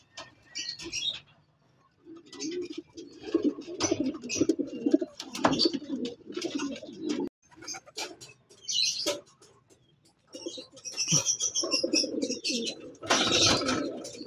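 Racing pigeons coo on the loft in La Paz, Tarlac, with low throaty coos in repeated bursts separated by short pauses, close by, alongside occasional wing flutters and scuffling.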